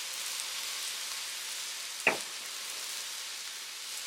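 Seitan and vegetables with light soy sauce stir-frying in a pan, a soft steady sizzle running throughout, with one brief sharp clatter of stirring near the middle.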